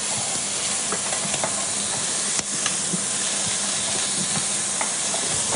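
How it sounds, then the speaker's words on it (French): Coco beans sizzle steadily in hot fat, with scattered scraping stirs and one sharp clack of utensil against pan, continuous frying hiss with no talk. "on ajoute nos haricots coco que l'on va doucement enrober dans la graisse"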